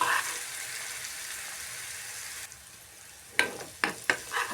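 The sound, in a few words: paste frying in oil in a pan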